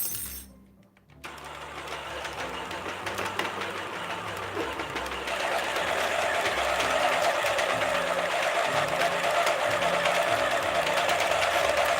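A knitting machine runs steadily while a beanie is knitted, a continuous mechanical whir and rattle that starts after a brief pause and holds at an even, fairly loud level.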